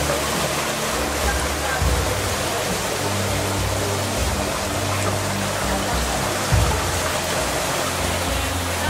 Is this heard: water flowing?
yes